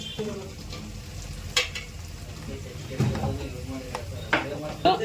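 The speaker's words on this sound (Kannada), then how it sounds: "ಚೆನ್ನಾಗಿ ಫ್ರೈ ಆಗ್ತಾ ಇದೆ ನೀಟಾಗಿ ಕಂದು ಬಣ್ಣಕ್ಕೆ ತಿರುಗಿದೆ ಈರುಳ್ಳಿ" Onions and spices frying in oil for a fish curry, with a steady close sizzle and occasional sharp scrapes and knocks of a ladle against the pan, and no talking.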